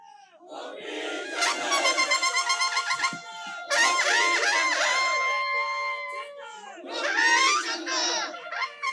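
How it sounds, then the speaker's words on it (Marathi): A tutari, the traditional long curved Maharashtrian horn, blares in several loud sustained blasts with rising, wavering tones before a political speech, a crowd noise faintly beneath. "तुतारे वाजते."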